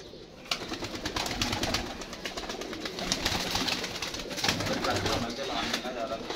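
Pigeons coo repeatedly nearby, soft throaty calls layered in a busy flock, while people talk over them throughout.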